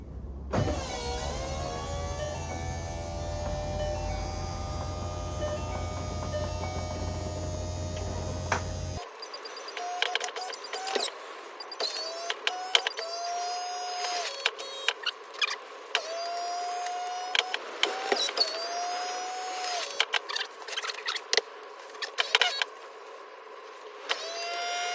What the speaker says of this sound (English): I'll run the top a few times